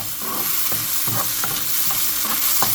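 Onions sautéing in a pan for a Goan lobster masala, with a steady sizzle broken by six or seven regular scraping stirs of the spoon, close and without any talk.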